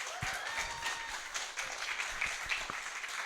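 A small open mic night crowd at a creative cafe gives a quick round of applause, soft and somewhat distant clapping that runs steadily for a few seconds.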